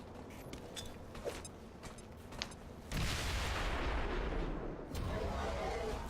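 In XCOM 2, a claymore and a grenade go off as two loud, close, booming blasts. The first comes about halfway through and the second follows roughly two seconds later, after a quieter rumbling stretch.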